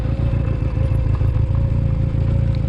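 A motorcycle engine runs steadily at low speed during a slow turnaround with the clutch in, a loud close throbbing idle-like rumble with a fast even pulse.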